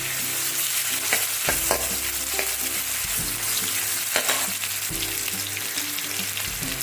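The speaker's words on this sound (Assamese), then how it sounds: "গোটেইখিনি জলফাই দি খুব ভালকৈ লৰাব লাগিব" Olives frying in a pan for a sweet-and-sour olive pickle, a steady loud sizzle with a spoon stirring and scraping, close up, a few sharper clacks rising over the continuous frying, no voices.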